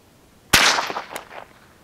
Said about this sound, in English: First couple shots, I'm gonna aim directly at it.